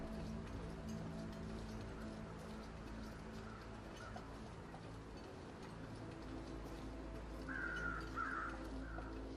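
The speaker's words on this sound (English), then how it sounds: "There's some weather crows." Crows in the game The Long Dark cawing faintly in the distance, a few short harsh calls near the end over a constant low ambient rumble, with no talk.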